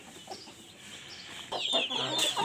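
Backyard chickens clucking, soft and scattered at first, then a louder close burst of clucks and squawks in the second half, with no talking.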